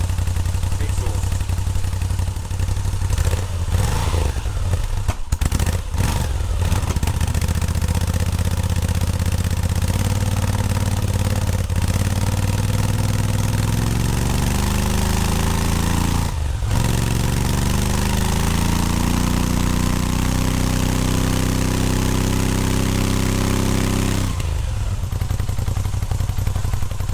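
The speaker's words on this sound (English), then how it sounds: "So this is the sound of a stock Moto Guzzi V7 exhaust." A stock Moto Guzzi V7 motorcycle exhaust idling close by, a steady low rumbling burble with slight throttle rises and dips over nearly half a minute, broken by a few brief clicks and clunks.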